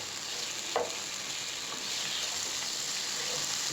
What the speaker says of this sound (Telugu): ఇలా తిరగేసుకుంటూ ఫ్రై చేసుకోవాలి